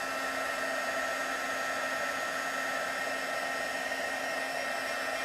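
A heat embossing tool blows hot air in a steady, close whooshing drone, unbroken and even for several seconds, with no talking.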